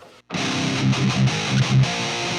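Electric guitar played through an Ibanez PT-5 pitch shifter into amp distortion, a thick, tight downtuned chord rhythm that starts abruptly after a short pause and chugs with several loud accented hits.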